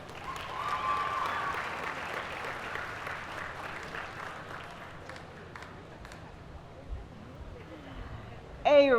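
Audience applause for high school dual enrollment scholars at a recognition ceremony, strongest early then easing off, with crowd murmur under it and a voice cutting in at the end.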